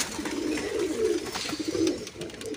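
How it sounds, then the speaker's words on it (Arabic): Iraqi pigeons, a Hindi cock among them, coo in soft repeated throaty phrases, close by and fairly clear, with no voices over them. "هذا حمام عراقي، الفحل هندي"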